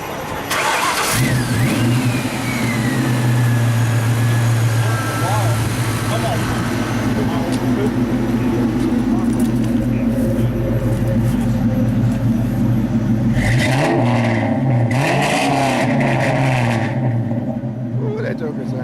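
A car engine at an outdoor car meet cranks to life and holds a loud, steady idle with a deep low rumble, then revs up in several sharp bursts near the end, with voices talking nearby.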